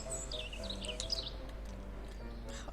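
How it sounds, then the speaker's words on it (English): Bird calls in the wolf video game Wolf Quest: a quick series of high chirps and tweets early on, then sparse faint calls over a soft outdoor ambience, all fairly quiet. "love the bird noises"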